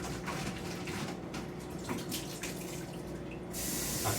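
An item is rinsed under a running tap, a steady close rush of water with faint splashing that swells slightly louder toward the end.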